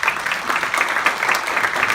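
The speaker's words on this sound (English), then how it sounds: "give him a round of applause" An audience claps to welcome a speaker at a talk, a steady wash of many hands that holds through the whole short stretch.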